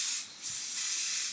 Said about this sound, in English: should I spray some of this more?